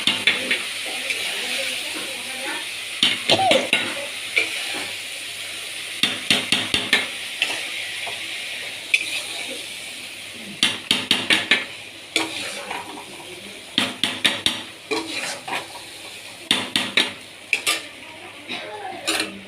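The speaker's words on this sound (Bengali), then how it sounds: "দেখো নাড়িয়ে দিলাম।" Spoon stirring dalia (broken wheat) in a cooking pot, repeated clattering scrapes against the pot in irregular bursts over a soft sizzle, close by, with occasional talk.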